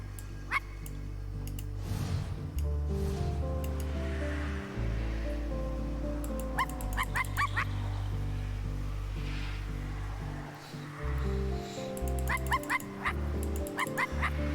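A dog barks in the video game I Am Dead on a lighthouse level, sharp repeated yips coming in short bursts over gentle waves and a soft sustained music bed.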